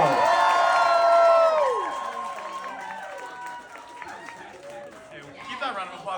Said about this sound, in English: Keep that round of applause going for Tim Wong